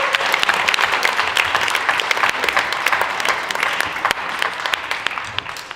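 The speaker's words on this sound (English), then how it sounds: "I just want to give everyone give them one big massive cheer for everyone who performed today." Loud, dense applause from an audience for the performers at a student leadership awards ceremony, sustained clapping filling the room close by for several seconds.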